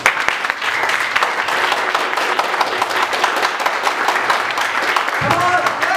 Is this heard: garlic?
no